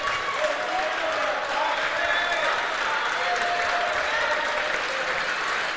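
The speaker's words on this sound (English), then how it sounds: "So she'll get a nice round of applause from the Breckenridge folks." A crowd at a girls' high school basketball section semifinal applauds steadily as a player leaves the game, with dense clapping and cheering in a gym, faint whistle-like tones and crowd murmur mixed in.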